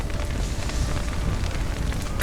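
A burning stable in The Witcher 3 roars and crackles in a steady, dense rush of flame noise, close and continuous without a break, with no voices over it.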